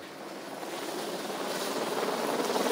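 Firefighters' helicopters at the Brumadinho operations base make a loud, continuous rotor and engine roar that builds steadily and fills the whole scene.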